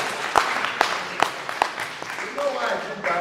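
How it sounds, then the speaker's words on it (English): A church audience claps to honour mothers, a handful of sharp, evenly spaced claps ringing out under a speaker's ongoing talk, then blending into a looser patter. "Let's clap for the mothers."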